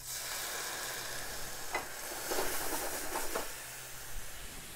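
A risotto pan, here for black risotto, sizzles and hisses steadily as wine goes in to deglaze it, with stirring scrapes rising in the middle.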